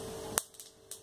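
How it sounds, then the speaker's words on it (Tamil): Mustard seeds burst in hot oil in a pan while ginger chutney is being made, giving three or four sharp, close pops spread over about a second above a low, steady sizzle. "இப்போ எண்ணெய் சூடாயிருச்சு, கடுகு போட்டுக்கோங்க."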